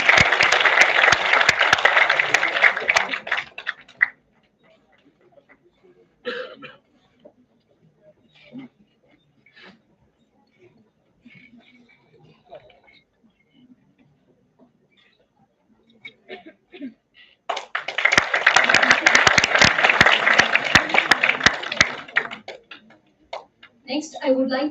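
Two bursts of loud, sustained applause for a speaker at a national seminar, one at the start and one near the end, with quiet stretches and faint scattered sounds in between.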